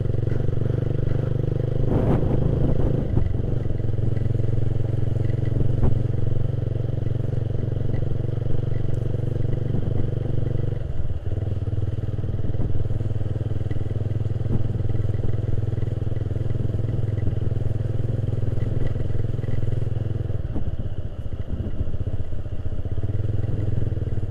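A Suzuki Satria FU motorcycle rides steadily along a riverside path, its engine droning loud and close throughout with brief rattles and scrapes from the rough track, and no talk.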